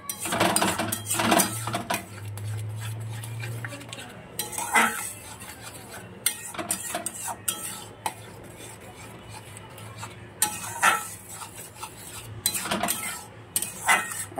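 A utensil repeatedly scrapes and clinks against a pan, stirring a mash of egg and tomato, with irregular metallic taps and scraping strokes over a low steady hum.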